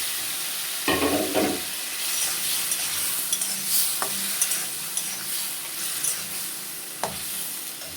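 Potatoes sautéed and stirred in a pan for a thin rohu fish curry, a steady sizzle with several sharp spatula scrapes and knocks spread through, close up and without speech.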